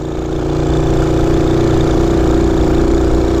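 A Honda C90 motorbike engine drones steadily while riding, a loud, close single-cylinder hum holding an even low pitch throughout.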